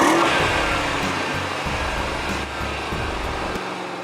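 A Mercedes E63 AMG station wagon pulls hard up a highway on-ramp, its engine note climbing through stepped gear changes, heard loudly from inside the cabin.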